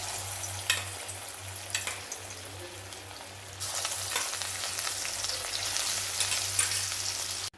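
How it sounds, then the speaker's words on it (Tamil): Marinated chicken deep frying in oil in a kadai, a steady low hiss with a louder, denser sizzle bursting up midway as pieces go in, continuing alone without talk. "இப்போ நான் கடாயில் எண்ணெய் விட்டுருக்கேன் இப்போ நம்ம கொஞ்சம் கொஞ்சமாக போட்டு பொரிச்சு எடுத்துடலாம்"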